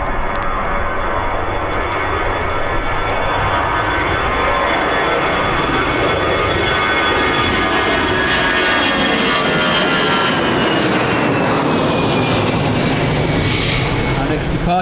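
A Ryanair jet departing Birmingham airport roars loudly and continuously, its engine tones sweeping upward and shifting as the aircraft climbs away over about fifteen seconds.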